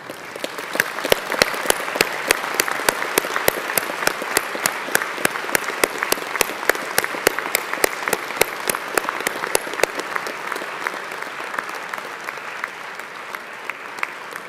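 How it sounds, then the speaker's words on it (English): Graduation ceremony audience at Swinburne applauding the graduates' families and friends: steady, dense clapping from a large crowd filling the hall, sustained throughout and easing slightly near the end. "Let's applaud them."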